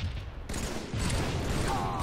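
Gunfire in a Halo multiplayer Team Slayer match, a loud burst of rapid automatic shots in a dense, continuous clatter lasting about two seconds.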